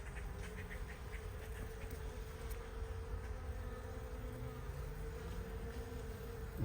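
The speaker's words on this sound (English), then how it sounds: "So these bees want to get back into their house, into their hive" Honeybees buzz around the entrance of a Paynes poly hive, a steady, faint, dense drone of many wings with a low hum underneath, continuous throughout and free of talk.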